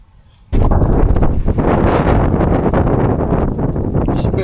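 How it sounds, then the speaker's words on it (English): Wind buffets a microphone outdoors beside a rusty Mitsubishi Evo 5 under restoration, a loud, steady broadband rumble that starts abruptly after a brief quiet moment and then blows continuously. "It's a bit windy today."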